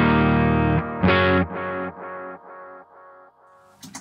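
A Carvin Kiesel CT6 electric guitar played through a Keeley Oxblood overdrive pedal rings out in a few sustained, driven chords that decay one after another, ending with a short pick scrape.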